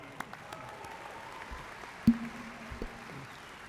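Faint, thin applause from graduates, families and guests at ESU's spring 2017 undergraduate commencement ceremony, scattered claps heard at a distance with a few louder individual claps.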